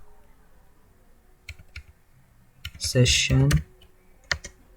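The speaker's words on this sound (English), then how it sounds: "So first of all we need to type this command" Computer keyboard keys typing an Oracle database command: a few scattered, crisp clicks with a short burst of speech in the middle.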